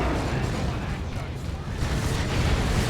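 A Blight Grenade explodes amid a Warhammer 40,000: Dawn of War 2 3v3 battle, a dense rumbling roar of blasts and fire that runs steadily through the whole stretch.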